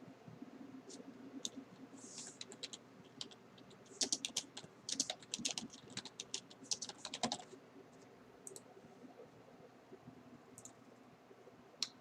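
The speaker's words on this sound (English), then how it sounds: "I'm typing in lowercase" Bursts of clicky keystrokes rattle unevenly on a computer keyboard, close and fairly quiet, with pauses between flurries and no talking.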